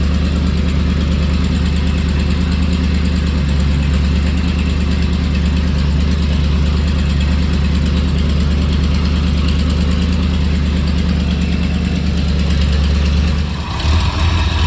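A 1978 Ford Bronco engine runs through a new exhaust system, producing a loud, steady, close rumbling drone that holds throughout and briefly dips near the end.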